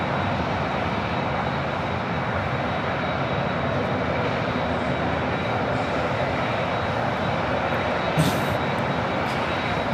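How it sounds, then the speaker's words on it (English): A 24-year-old Boeing 747-400 freighter arriving from Anchorage and landing at LAX, a loud, steady broadband jet roar that fills the whole stretch with little variation. "This is Coletta Air 653 coming in from Anchorage on a 24-year-old 747-400 freighter."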